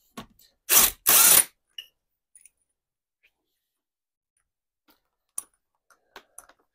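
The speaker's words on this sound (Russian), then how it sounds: "открутить эту гайку и скинуть корзину сцепления" Nut on the clutch basket of a first-generation Yamaha R1 engine being undone with a wrench: two loud close ratcheting bursts near the start, then scattered faint ticks and small metallic clicks.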